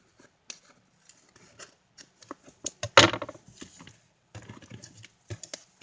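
Scissors snipping paper off a collage page, a series of short crisp cuts and rustles at close range, with one louder crunchy cut midway and no talking.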